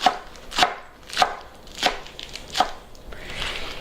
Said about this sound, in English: what I do is I just roll these up and chop them small.